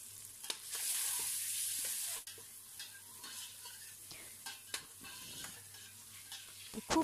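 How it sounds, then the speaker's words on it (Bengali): Eggs seasoned with black pepper and salt fry in a pan, a sharp hiss flaring loudly at the start and then settling into a steady, quieter sizzle with small crackles and a low pan hum. "ডিমে দিয়ে দিচ্ছি একটু গোলমরিচ আর একটু নুন, দিয়ে ডিমটাকে আমি ভেজে নেব।"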